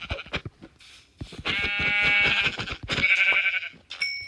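Sheep bleating in the video game Minecraft, several wavering bleats in quick succession, loud and close, with a few short game sound effects around them.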